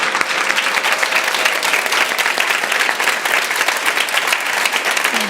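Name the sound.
audience round of applause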